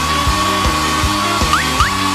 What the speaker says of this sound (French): Je préfère utiliser un sèche-cheveux.